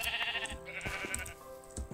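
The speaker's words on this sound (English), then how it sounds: "Oh, damn, the sheep." Sheep in a zombie survival video game bleat several times in quick succession, wavering nasal cries at moderate volume with a few soft thumps between them, and no talking.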